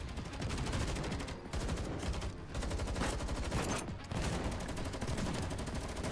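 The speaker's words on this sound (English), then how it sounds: "More than a dozen streams of gunfire tune through the icy air" Rapid, sustained automatic gunfire in the video game Girls' Frontline 2: Exilium, in dense bursts, loud and close, with brief pauses between volleys.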